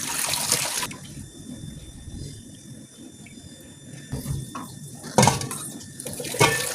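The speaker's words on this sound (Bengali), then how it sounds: "এবার আলু এবং বেগুনগুলোকে খুব ভালোভাবে ধুয়ে নিতে হবে।" Potatoes and eggplants rinsed under running tap water in a sink, a steady close trickle and splash with brief louder gushes, no talk.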